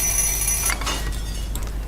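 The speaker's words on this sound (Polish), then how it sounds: "Budzik, on się tak ładnie stopi." In the video game Little Inferno, an alarm clock rings in the fireplace, a short bright metallic jangle at moderate level over a steady low hiss.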